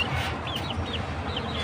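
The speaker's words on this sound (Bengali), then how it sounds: "বাতাসের কারণে আমার মুরগিগুলোকে আমি এটার ভিতরে আটকায় রেখে দিছি।" Chickens just let out of their coop on a cloudy, very windy day, clucking repeatedly in short rising calls over a rough wind rumble, with no one talking.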